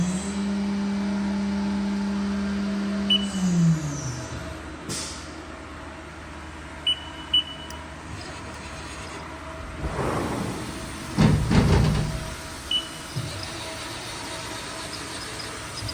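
The spindle of a 2019 Haas VM3 CNC mill, rated to 12,000 RPM, gives a steady whine that winds down after a few seconds, followed by quieter machine hum and a few scattered clunks.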